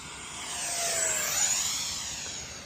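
An XFly electric ducted fan on an RC Freewing F-5 jet whooshes past in a single smooth pass, a distant high-pitched whine that swells, shifts pitch and fades over a couple of seconds.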